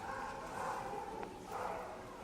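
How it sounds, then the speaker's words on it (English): A dog barks and yelps repeatedly at a distance, moderately loud, with a couple of sustained bursts of barking over quiet outdoor background. "There's a dog being quite loud"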